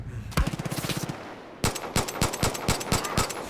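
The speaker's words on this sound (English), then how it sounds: "Lay down some suppressing fire" Automatic weapons fire in the video game Far Cry 5: a rapid burst of close shots, a brief gap, then more loud, evenly spaced shots.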